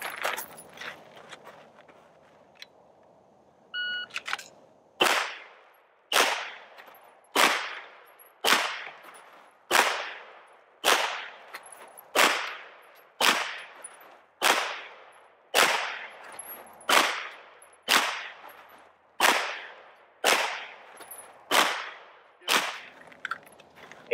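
A shot timer beeps, then a pistol fitted with Proctor Y notch sights fires sixteen sharp, evenly spaced shots about a second apart during a timed shooting drill, each crack ringing out loud and close.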